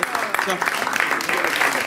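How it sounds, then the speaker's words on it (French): A television studio audience claps in a short burst of applause, dense and close, with voices mixed into the clapping. "Applaudissez la plus fort, s'il vous plaît"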